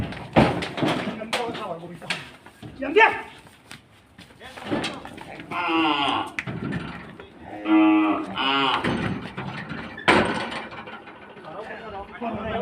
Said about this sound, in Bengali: খুব পাগলা টাইপের একটা গরু